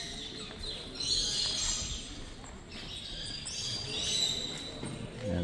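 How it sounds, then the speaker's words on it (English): Budgies chirp at a bird expo before the doors open, a faint busy chatter of high tweets behind a hollow hall ambience, with occasional thumps nearby. "Beautiful budgies in there."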